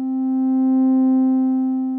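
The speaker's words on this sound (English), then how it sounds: "As we reduce the modulation index, you'll hear the pitch shift" Steady pure oscillator tone from a modular synthesizer generator under exponential FM, a single sustained pitch swelling and fading gently, alone and clear.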